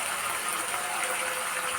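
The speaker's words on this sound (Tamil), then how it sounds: "1/4 கப்பு தண்ணி விட்டு அது நல்லா கொதிக்கும்" Water being poured into a pan while cooking aval upma, a continuous gushing splash at a steady level from start to finish.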